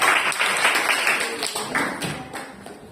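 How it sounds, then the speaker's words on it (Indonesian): A small group in a classroom claps in a brief round of applause after a group presentation, fading out over a few seconds, with a voice faintly underneath. "tepuk tangan dulu untuk perwakilan kelompok 3"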